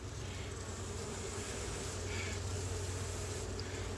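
A dense, continuous buzzing drone of many honey bees in a hive, close and steady, with no voices.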